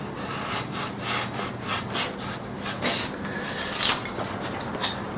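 Blue foam glued to a model airplane's nose is trimmed with quick, rhythmic rasping strokes, close and fairly quiet, with no voices.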